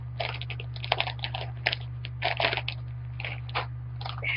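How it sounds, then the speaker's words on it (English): Plastic crinkles and rustles in quick irregular bursts as a bag is pulled open by hand, close up, over a faint steady hum. "I have to open the bag with my fingers."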